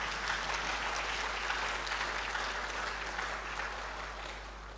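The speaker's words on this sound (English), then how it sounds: "I want you to applaud yourselves for this wonderful patronage and your presence this morning." Audience at the 10th KNUST Summer School 2023 morning session applauding themselves, a soft, distant, even patter of many hands that fades slightly toward the end, with a low steady hum underneath.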